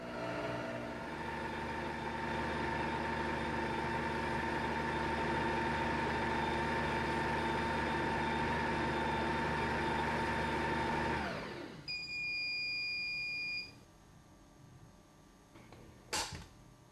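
A Cuisinart stand mixer kneads dough at speed 3, its motor whining in a steady hum for about eleven seconds before it cuts off, followed by a brief faint tone and a light clatter.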